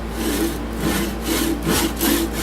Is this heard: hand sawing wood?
yes